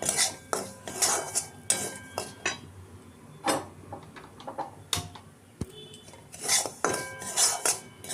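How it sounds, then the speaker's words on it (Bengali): Semolina roasting in a pan, stirred with a metal spoon that gives repeated clinks and scrapes against the pan in an irregular rhythm, close and fairly loud. "সুজিটাকে অল্প করে ভাজবো"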